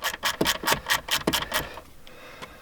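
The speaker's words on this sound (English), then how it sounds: "1/4" thing on here to get out these bottom screws for the amplifier" A small 1/4 inch driver tool turns out the bottom screws of a car amplifier, making a quick run of close rasping, ratcheting clicks for about a second and a half before it falls quiet.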